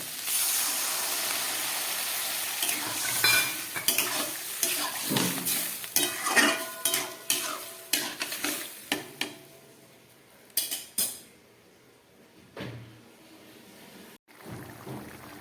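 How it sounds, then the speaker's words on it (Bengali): A vegetarian potato-and-pea curry for kachori sizzles loudly in a pan as water goes in, then a spoon stirs and scrapes it in repeated close strokes while the hiss settles and fades. "এবারে দিয়ে দিচ্ছি আমি জল।"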